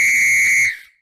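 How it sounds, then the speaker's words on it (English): A whistle is blown once, with a loud, steady, shrill single blast lasting most of a second before it cuts off and fades. "In the case of blowing of a whistle"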